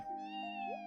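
A single cat meows in the JRPG The Legend of Heroes: Trails from Zero, one short, clear, close mew with a rising, bending pitch and no talking over it.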